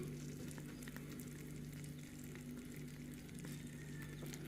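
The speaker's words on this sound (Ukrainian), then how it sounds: "Вона ще шкварчить, горяча і дуже смачна." Steady, soft sizzling and crackling of a zucchini and minced meat casserole hot from the oven, a continuous fine bubbling hiss with no voices.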